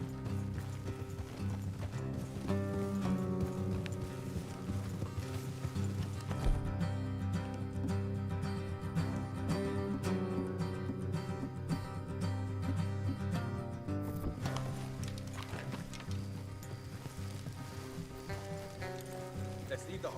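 Several horses gallop in Red Dead Redemption 2, their hooves clip-clopping in a fast, steady rhythm that goes on throughout, close and loud, with background game music and effects mixed in.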